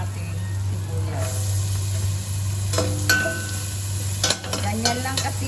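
Onion for carbonara sizzling in a pan, a close hissing fry over a steady low hum, with a few scraping stirs and clatters toward the middle and end.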